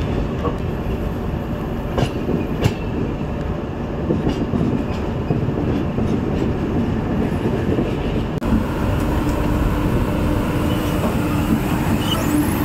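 Garib Rath Express train pulling into New Bongaigaon station, a steady loud rumble of rolling wheels and carriages with faint clanks and clicks over the rails, continuous throughout with no talk.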